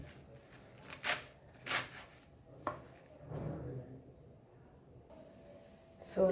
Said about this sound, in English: The more you fine chop it, the more it is tasty.